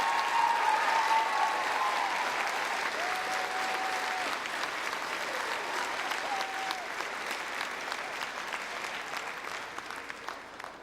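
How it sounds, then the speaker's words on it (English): Sustained audience applause at a middle school band concert, steady and fairly loud throughout, a dense wash of clapping from a full room that thins slightly toward the end. "Let's give him one more round of applause."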